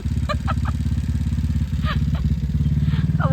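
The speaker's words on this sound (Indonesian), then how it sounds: "Si Akbar tinggal ngegas sungkul, bay" Motorcycle engine revving up close on a holiday homecoming road trip, a loud throbbing exhaust that pulses steadily and rises in pitch, with brief voices talking over it.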